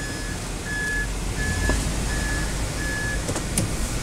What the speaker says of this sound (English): Moves in reverse.